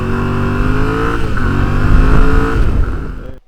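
Motorcycle engine accelerating hard onto a Turkish expressway, a loud steady rising engine tone with harmonics that swells and then cuts off abruptly at the end, with no voices.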